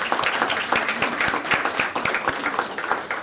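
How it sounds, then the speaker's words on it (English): An audience at a school event applauds in a steady, dense patter of clapping that runs through the whole moment at moderate loudness. "Let's give them a round of applause for all their help."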